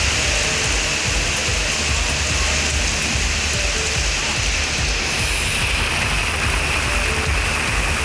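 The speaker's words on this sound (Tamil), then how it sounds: "நீலகிரி மாவட்டத்தின் உதகை, கூடலூர், பந்தலூர் உள்ளிட்ட பகுதிகளில் கனமழை கொட்டி தீர்த்தது" Heavy monsoon rain pours down in the Nilgiris hills, a dense, steady, loud hiss of water striking surfaces that fills the whole stretch without pause or voices.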